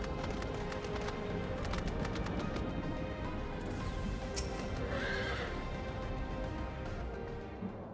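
A horse in the Final Fantasy 14 video game whinnies clearly over a steady, full ambient game soundscape, the neigh rising briefly in the middle with faint hoof clops around it.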